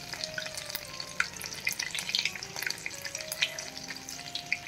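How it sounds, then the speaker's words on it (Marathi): Bread cheese pakoda frying in hot oil, a steady crackling sizzle with bright popping bursts and light stirring scrapes throughout, close and moderately loud with no talk. "दोन्ही साइडने छान क्रिस्पी होण्यापर्यंत आपण तळूया."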